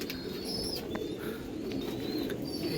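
Soft, low pigeon cooing close by, a continuous throaty murmur with a few faint chirps above it.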